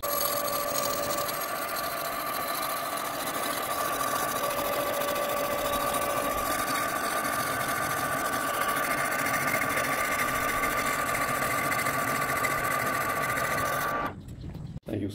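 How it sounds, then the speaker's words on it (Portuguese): A cylinder boring machine machines a motorcycle engine cylinder from an XRE 300 and CB 300 in a rebuilding shop, giving a steady, close mechanical whir with a constant high tonal whine that stops abruptly near the end. "O cilindro depois da usinagem, vamos removê-lo aqui da broqueadora de cilindros."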